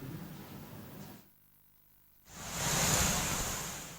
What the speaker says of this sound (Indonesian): hujan deras yang disertai angin kencang mengakibatkan saluran drainase yang berada di sepanjang Jalan Ahmad Yani Singaraja meluap